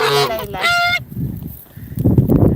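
A goose gives a couple of loud, close, harsh honks at the start, followed by quieter rustling and shuffling noises from the flock.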